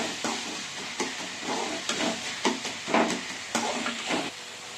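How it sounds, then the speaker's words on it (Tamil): Sea crab pieces are stirred into fried onion and tomato for crab masala, with repeated scraping stirs over a soft sizzle in the pan, moderately close and without talk. "இப்போ வெங்காயம் தக்காளி நல்லா வதங்கிடுச்சு, இப்போ நண்டு சேர்க்குறேன்."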